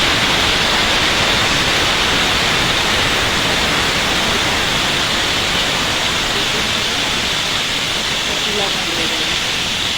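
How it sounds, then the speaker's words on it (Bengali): Cut pumpkin and potato for khichuri fry in hot oil in a wok, a dense, even sizzling hiss filling the whole stretch, loud and close, with no voices. "এই খিচুড়ির জন্য কেটে রেখেছি কুমড়ো আলু, এটা ভেজে নেব।"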